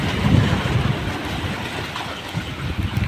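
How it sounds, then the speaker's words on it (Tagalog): Strong wind blows at a fishing spot on a bridge at Subic Bay, Philippines, buffeting the microphone with a loud, rough, continuous rumble and roar that swells and eases slightly throughout. "Masyadong malakas ang hangin."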